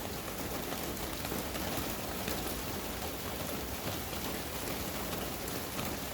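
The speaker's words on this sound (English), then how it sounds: "This rain is absolutely horrible." Steady heavy rain pours down in a dense, unbroken hiss with no other sounds standing out.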